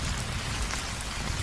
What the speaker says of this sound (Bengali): এ হলো কালবৈশাখী ঝড়,